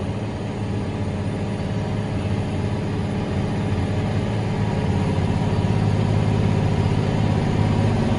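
A new tractor's engine drones in a steady, continuous low roar as it works down into a lower patch of soil, its pitch holding fairly even with no voices.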